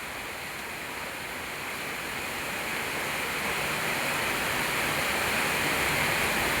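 Heavy rain pours steadily over waterlogged farm fields in Surat, a dense broadband wash that swells slightly louder over the seconds, with no voices.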